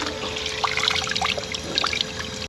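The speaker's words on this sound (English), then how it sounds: "Here's another fountain with water coming from the Alps." Water trickling and splashing steadily from a public drinking fountain in Varenna on Lake Como, Italy, fed by Alpine water; a close, continuous babbling stream with no talk.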